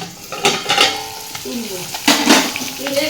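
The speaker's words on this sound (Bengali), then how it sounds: "এই মাছ ভাজা চলছে" Fish frying in a hot pan in a home kitchen, with a steady sizzle broken by louder bursts as pieces are stirred or turned, close by and with no talk.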